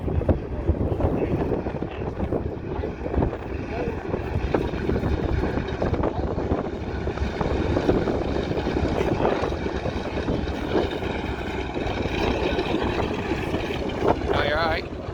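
A 1942 Douglas DC-3 propeller airliner approaches, its broad engine and propeller roar steady and loud throughout, mixed with wind buffeting on the microphone.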